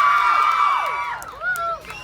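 Crowd at an outdoor summer festival cheering, whooping and shouting in a loud sustained wave, with rising and falling high yells and whistling cries over the din.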